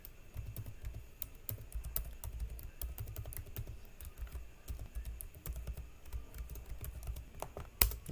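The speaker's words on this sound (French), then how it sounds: "Je tape sur entrée." Keys clatter on a computer keyboard in quick irregular bursts, with occasional sharper presses like the Enter key, close and fairly quiet with no talking.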